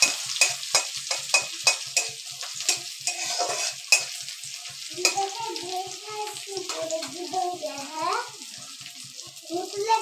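Garlic and onion frying in oil in a pan while being stirred, with a steady close sizzle broken by repeated scraping strokes of a spatula, loud and continuous throughout.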